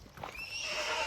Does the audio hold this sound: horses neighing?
yes